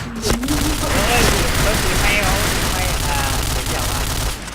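Rapid gunfire in a shooting video game, loud and continuous bursts of shots with booms, under excited voices talking over the action.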